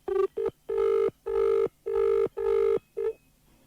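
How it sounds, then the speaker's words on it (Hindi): A telephone line rings through on a radio broadcast call: a harmonic ringing tone repeats in seven short, evenly spaced bursts, clear and steady with no voices over it. "तो फोन लाइन के जरिए हम जुड़ते हैं डॉक्टर स्वाति गौतम से।"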